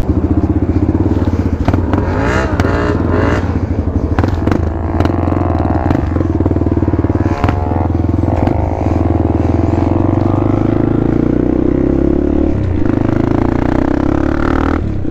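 Motorcycle on a road ride, a loud continuous engine drone with wind rumble and clattering buffeting throughout, the pitch shifting slightly as the rider accelerates.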